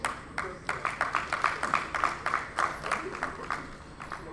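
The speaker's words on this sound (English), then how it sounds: "A round of applause" A small group at a game developers' meetup in Zambia claps in a quick, uneven patter that swells and eases, moderately distant, with murmured voices underneath.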